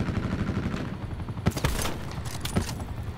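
Call of Duty Black Ops 4 gunfire rattles faintly under busy game noise, then sharper shots crack out in quick bursts over the final two seconds.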